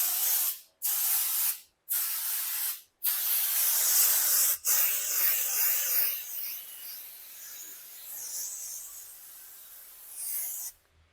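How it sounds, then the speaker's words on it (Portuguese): Silicone spray from an aerosol can misting onto latex balloons in a balloon garland, several close bursts of loud hissing separated by brief pauses, then a softer, fading hiss, with no talking. "joga spray"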